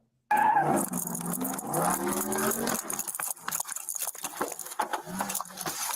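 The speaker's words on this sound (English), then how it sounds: "That sounds like a 392, the way that engine sounds." A stolen Jeep with a high-powered 392 engine revs hard and accelerates away nearby, a loud rising roar with tire noise, then rougher fluctuating engine sound as it pulls off.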